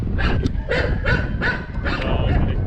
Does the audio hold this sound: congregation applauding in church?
no